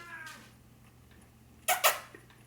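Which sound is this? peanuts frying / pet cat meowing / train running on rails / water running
pet cat meowing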